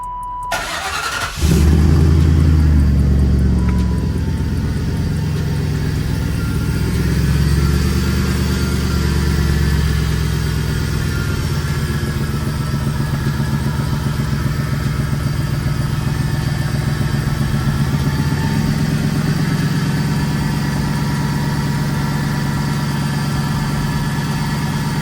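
A rebuilt car engine, recently repaired for misfires, cranks briefly, then catches and starts loudly, settling into a steady close idle that runs on alone with a slight surge early on.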